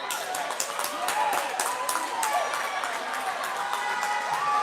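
At a high school girls basketball game, the Waldron crowd roars and cheers with scattered clapping and shouts, while sneakers squeak on the court throughout.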